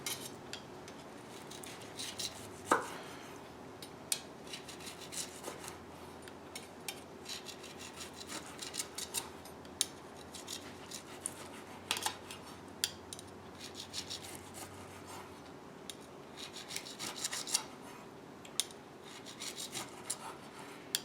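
A knife slicing through a small ribeye steak gives a steady, close rasping and scraping with occasional light clicks against a board, continuing without talk.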